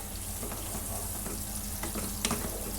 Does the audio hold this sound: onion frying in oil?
yes